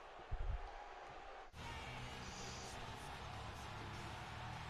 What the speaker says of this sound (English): And now they got a yes chant going.